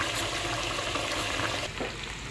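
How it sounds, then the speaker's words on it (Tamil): Chicken fries in a hot pan for a Thai green curry, giving a dense, steady sizzle that holds at an even loudness close up, with a brief stir near the end and no voices. "இப்போ பாருங்கள், சிக்கன் சூப்பராக வந்து ஃப்ரை ஆகிட்டே இருக்குது"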